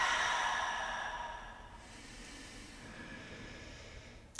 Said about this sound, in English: To settle myself, I breathe deeply.